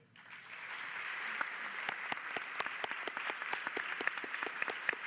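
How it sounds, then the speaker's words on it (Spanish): An audience at a round-table event breaks into applause that swells quickly and holds steady, with distinct individual claps popping out near the microphone over the broader crowd clatter. "Quiero pedirle también al estimable auditorio un aplauso para Radio Educación"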